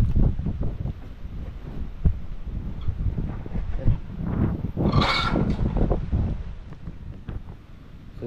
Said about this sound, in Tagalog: Binabayo na naman ng hangin.